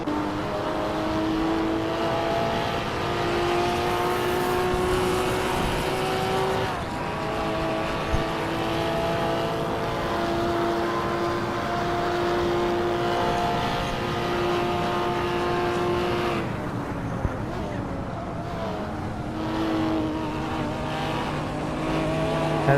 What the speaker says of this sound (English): Straight line, this thing only gets to 165, 170, and that's not really enough when Vert's car gets to 198.